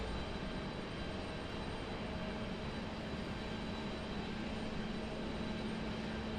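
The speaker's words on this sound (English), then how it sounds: "Boy, these Southwest pilots make it so exciting. Most dramatic touchdown I see." A Southwest Airlines plane touches down at Raleigh-Durham International, heard as a loud, steady jet roar with a faint whine riding on top, continuous throughout with no voices.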